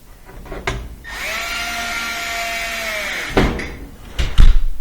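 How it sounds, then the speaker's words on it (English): A power driver sets two Phillips head screws back into a household appliance, giving one steady whirring drone of about two seconds that winds down, framed by sharp knocks and clatter of handling. "So we're just putting in these 2 Phillips head screws here."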